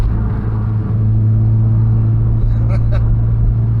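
A Mazda RX-7 engine running rough while driving, a loud steady low rumble with a constant drone from inside the car and a couple of faint clicks near the end.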